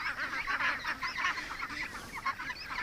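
A flock of ducks quacks and honks continuously nearby, a busy overlapping chatter of calls with no pauses.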